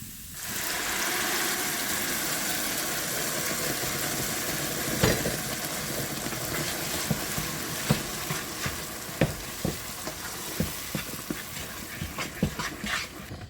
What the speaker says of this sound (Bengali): এখন আমি শাকটা ঢেলে দেবো